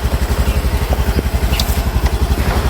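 A Honda Activa scooter engine idles nearby with a steady, low, rapid putter and faint rattles, no voices over it.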